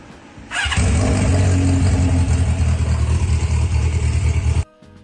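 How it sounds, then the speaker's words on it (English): Honda CB550 motorcycle engine fires up and runs loud and close at a steady idle for about four seconds before cutting off abruptly. "Me and my friend Brandon finally got the bike running again. His CB550 sounds sick."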